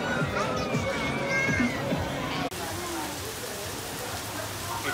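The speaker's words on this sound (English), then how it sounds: "It started raining" Rain falls steadily in a seaside boardwalk town, a constant hiss with voices and crowd chatter mixed in, cut by a brief break midway.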